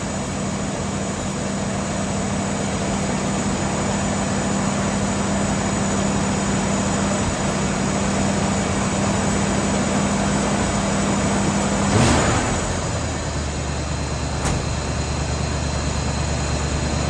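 A Ford F-100 pickup truck engine idles steadily and loudly up close with a low, even rumble, then a sharp rev around the twelve-second mark settles back into a deeper idle; no talking.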